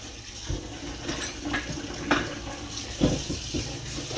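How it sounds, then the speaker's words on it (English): Water pours out of a kitchen pot and then cold tap water runs into it, a soft irregular splashing and trickling with a few louder gulps and knocks, close by and without speech. "I'm going to pour this hot water out. We're going to put some cold water in here."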